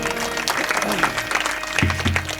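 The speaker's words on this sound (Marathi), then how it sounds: "माझ्या भगिनीसाठी एकदा जोरदार टाळ्या होऊ द्या." Brief burst of audience applause for a female singer at a kirtan performance, clapping rising under a voice that keeps talking over it.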